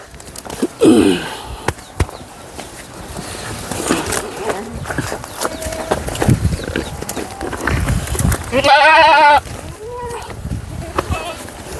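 A herd of Gujri breed goats bleats, with a few wavering calls standing out near the start and a loud, drawn-out bleat close by near the end, over hoof clatter, rustling and people talking.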